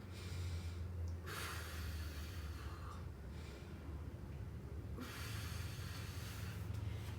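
Slow, quiet breaths drawn and released close by during a seated yoga twist, two soft airy exhales separated by a pause, with no talking.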